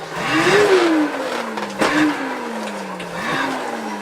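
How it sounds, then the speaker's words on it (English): A Burrage & Boyd Newmaid non-electric hand-powered vacuum cleaner's fan spins up, a rising whirring tone that climbs, sags and surges again in repeated pushes, steady and close with no talk. "you've got to really spin that fan up"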